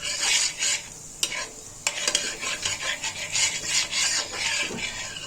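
Butter stirred in a hot pan while making potato cheese pops, giving a steady scraping, rubbing stir with a soft sizzle running underneath, close and continuous, with a few sharper utensil knocks.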